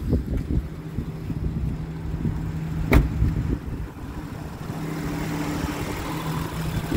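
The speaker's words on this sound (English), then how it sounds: "So this car idles nicely" An Acura CL-S engine idles steadily at roughly 750 to 800 rpm with a low, even rumble and a faint whirring cooling fan, with one sharp click partway through.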